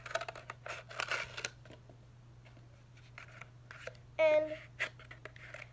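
Scissors cut small holes in a homemade hamster toy with a few close, crisp snips and papery crunches, plus a soft rustle of handling, under a low steady hum. A voice speaks briefly.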